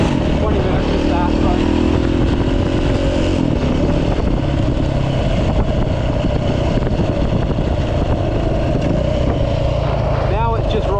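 A KTM 450 EXC custom adventure bike rides steadily with a constant, loud engine drone and wind rush. It holds a steady pitch throughout, with a brief rising rev near the end.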